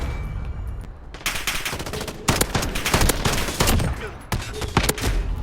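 An FAL rifle fires in Modern Warfare, sharp cracks in rapid bursts and single shots with short gaps, loud and close under game ambience.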